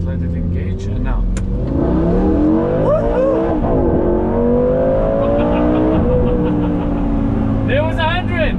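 A Lamborghini Gallardo pulls hard from 0 to 100, its engine roaring loudly and climbing through rising revs with sharp gear changes, while people talk and exclaim over it.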